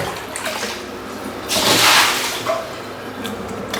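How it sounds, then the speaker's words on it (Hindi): Water is scooped out of a bathtub with a mug, giving a single splashy slosh in the middle and a smaller splash after, with no talking. "1-2 मग पानी इसमें से निकाल दें।"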